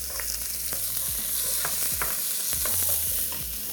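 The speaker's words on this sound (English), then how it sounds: "Salt always helps when you are sauteing onions." Onion and garlic sautéing in hot oil in a pan, a continuous close sizzle broken by stirring clinks and scrapes, with a low hum underneath and no voices.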